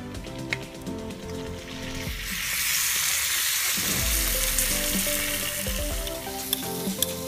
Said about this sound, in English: put the shrimp in the pan.